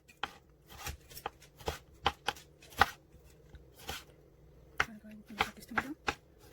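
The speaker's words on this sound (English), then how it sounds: "So I'm just cut this cherry tomato in half." Knife slicing cherry tomatoes in half on a cutting board for a Lao chicken salad: a string of sharp, close chopping taps at an uneven pace, with occasional quiet talking.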